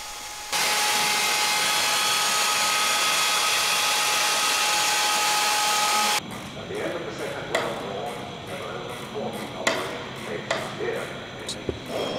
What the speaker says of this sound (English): while Dave cuts out the wooden pattern for making the last of the short formers above the tailplane in the fuselage